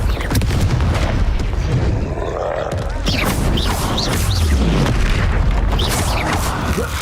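A Confringo fire spell blasts in the Hogwarts Legacy video game, landing as a deep booming explosion amid a dense, continuous din of duel effects, music and grunts that stays loud throughout.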